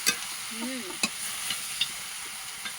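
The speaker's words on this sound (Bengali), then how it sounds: "মাংসটা কিন্তু কিছুটা কষা হয়ে গেছে" Pieces of country chicken are sautéed for a red curry in a pot over a wood fire, with a soft frying hiss broken by several sharp spoon-scraping clicks, close by.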